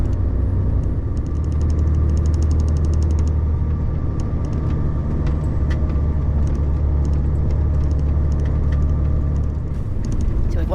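A car approaches on a narrow rural road in Spain, a steady engine rumble heard from inside a moving vehicle with continuous road noise, with brief ticking sounds partway through.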